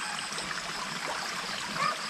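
Water drains steadily from a crayfish pond, a continuous broadband trickling rush that holds at an even level from start to finish, with no voices.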